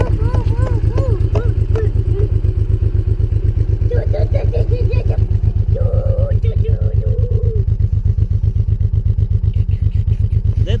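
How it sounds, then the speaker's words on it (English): A stock-exhaust Honda VTX V-twin motorcycle idles close by with a steady, loping thump throughout, and a person talks over it in the first half. "That's the sound of the exhaust system."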